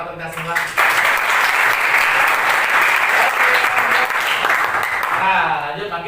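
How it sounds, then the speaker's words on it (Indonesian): Classroom applause from students during a lesson, a sudden burst of loud, dense clapping that holds steady for about five seconds before tapering, with voices around it. "Tepuk tangan untuk kita semua."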